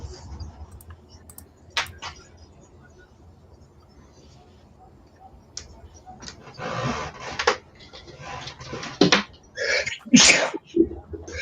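A single sharp sneeze rising out of a quiet room with scattered clicks and taps, followed by people talking and shuffling movement.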